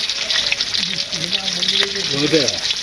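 Two pieces of food fry crisp in a hot pan with a continuous bright sizzle and some light stirring. A voice talks over it at close range.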